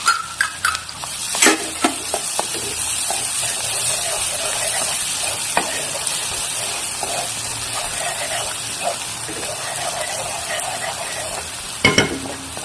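Green garlic stirred into an onion-tomato masala frying in a pan, a steady close sizzle with occasional scraping stirs and clinks, no talking.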